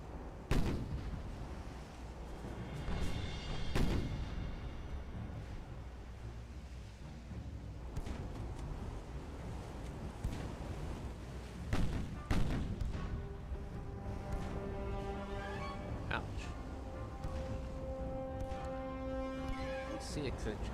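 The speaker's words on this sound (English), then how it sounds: "See, 6-inch guns are doing demanded work." Booming 6-inch naval guns fire in Ultimate Admiral Dreadnoughts, several heavy reports spaced irregularly over a rumbling battle bed, with a speaking voice in between.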